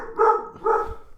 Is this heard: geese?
no